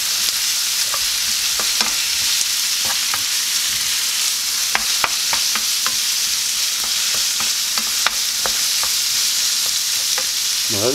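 Onion and meat frying in a pan for a quiche filling, a steady bright sizzle with frequent sharp clicks and scrapes of stirring throughout.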